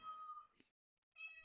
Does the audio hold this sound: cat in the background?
yes